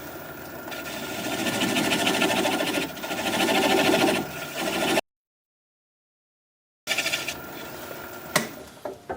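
A wood lathe spins a small piece of yew at about 400 RPM, giving a steady, dense mechanical whir that cuts out abruptly for a moment, then resumes with some scraping.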